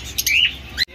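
Grey cockatiels at a bird market give a quick series of close, bright chirps and short whistles, with a last sharp call before it goes quiet.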